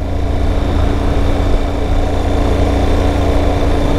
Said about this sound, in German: ich halte mit rechts etwas das Gas auf, dass ich knapp über die 2000 komme